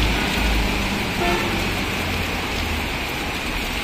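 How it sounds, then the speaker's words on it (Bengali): Heavy rain pours steadily onto a Dhaka street during a gusty storm, a dense, constant hiss with traffic rumbling beneath and a car horn tooting briefly. "সকাল থেকে বৃষ্টি, এখনো বৃষ্টির খুবই চাপ রয়ে গেছে, মাঝে মাঝে একটু কমে আবার বেড়ে যায়।"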